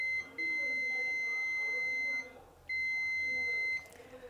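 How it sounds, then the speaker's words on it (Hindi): A steady high-pitched beep sounds twice, each tone held for about a second and a half with a short gap between, a continuity tester's signal. "अगर हम इसको चेक करेंगे कंटिन्यूटी रेंज पर तो आपको देखने को मिलेंगे फुल बीप आपको सुनने को मिलेगा"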